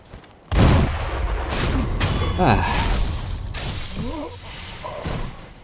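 An improvised shotgun-like cannon fires in the video game Sekiro, a sharp loud blast followed by rumbling, clanking game effects, with someone talking over much of it.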